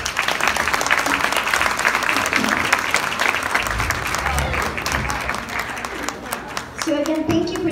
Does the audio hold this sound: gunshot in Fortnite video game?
no